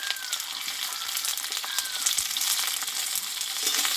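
Pointed gourd fries with spices in a pan, giving a dense, steady sizzle up close, with light stirring clinks throughout.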